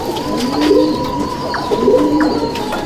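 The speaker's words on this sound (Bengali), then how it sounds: "ছেড়ে দেখাচ্ছি পায়রা দুটো আপনার দেখুন" Pair of Teddy pigeons in a pigeon loft coo close by, two rounded throaty coos repeating roughly a second apart over a faint steady background.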